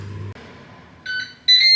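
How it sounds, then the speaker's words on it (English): Two short electronic beeps from a Ninja Speedi air fryer ring out one after another near the end, bright and fairly loud over a quiet background. "And we've beeped."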